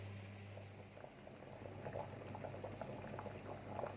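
Water bubbling at a steady boil in a pot for mackerel tom yum, a continuous close simmering rumble with small pops and gurgles throughout, no voices.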